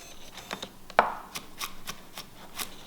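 Garlic cloves being roughly chopped with a knife on a cutting board for a ribeye roast, heard as close, sharp individual chops, about seven spaced knocks with one louder strike.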